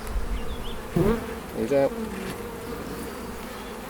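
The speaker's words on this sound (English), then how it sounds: "A bee's just gone onto your microphone, and it's probably trying to sting the microphone in there" A bee buzzes right against a microphone at a beehive, a steady insect drone close up with a short voice breaking in partway through.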